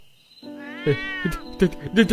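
A blue-eyed cat gives a drawn-out, close meow followed by a few shorter meows, loud and clear.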